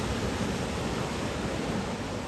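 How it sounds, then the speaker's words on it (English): The hull of an S220 boat from In3 Boatworks runs through ocean waves, giving a loud, continuous rush of water and wind noise with no let-up and no voices. "the boat just stays so composed going through those waves"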